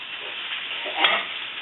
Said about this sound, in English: We're going to go ahead and put the meat back in the pan now.